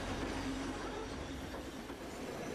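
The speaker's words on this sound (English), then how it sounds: "We decided to go by train, as it's the best way to see the scenery and meet the local people." A passenger train runs through the tea-growing hill country of Sri Lanka's highlands, a steady close rumble of wheels and carriages that holds at an even, loud level from start to finish with no voices.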